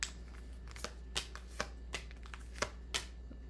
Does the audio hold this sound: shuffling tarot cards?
yes